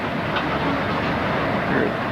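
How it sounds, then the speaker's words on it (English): A train rumbles past in the background near Glacier National Park, a steady broadband roar that stays level throughout with no talk. "there's a train going by in the background."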